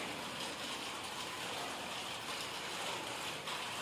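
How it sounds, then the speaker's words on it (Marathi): Steady rain falling outdoors in Hatkanangale, a dense, even hiss of drops with no voices, constant and fairly quiet over a few seconds. "हातकणंगले तालुक्यामध्ये पावसाचं थोडं आगमन होत आहे"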